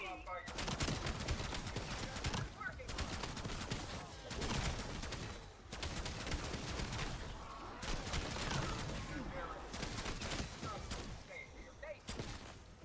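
Dense, continuous gunfire in a video game during a shotgun match, loud bursts with only brief gaps, with a voice talking over part of it.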